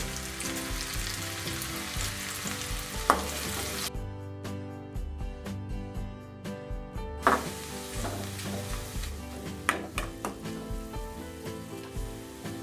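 Steady sizzling and crackling of small onions, curry leaves and dried red chillies frying in hot oil, with occasional stirring knocks and a brief quieter stretch in the middle.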